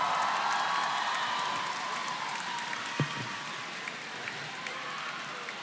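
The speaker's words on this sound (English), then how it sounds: "Let's give them a big round of applause," An audience at a live MPL PH esports playoff event gives a sustained round of applause, a steady wash of clapping and crowd noise at moderate distance with one soft thump partway through.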